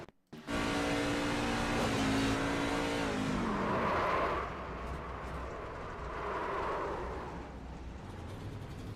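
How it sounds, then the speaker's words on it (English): A loud racing engine with a falling, squealing tone as a race car's brakes lock up during a Scrambler Series race, then a lower sustained roar of cars passing on the track. "You heard those brakes locked up."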